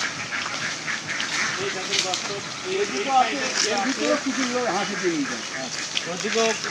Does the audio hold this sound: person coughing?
no